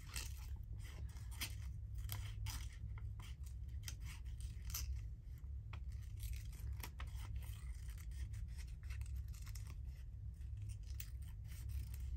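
Quiet, repeated snipping of scissors cutting paper, irregular short clicks and rasps over a steady low hum, close by and without speech.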